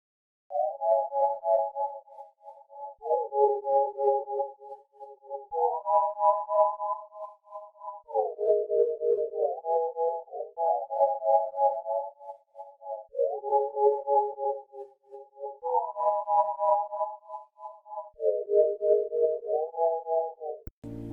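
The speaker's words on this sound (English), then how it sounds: "I decided to go ahead and add a sine wave kind of pad that we hear frequently today in R&B" A soft sine-wave pad in a soulful R&B sample drifts through slow repeating chord changes, smooth and pure-toned, rising and falling in gentle swells with nothing else playing.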